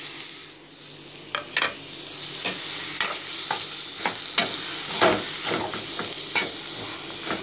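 Onions sizzle and fry in a pan for a Tamil pepper chicken kulambu, with steady hiss and repeated sharp scrapes of a spoon stirring through them at close range, no talking.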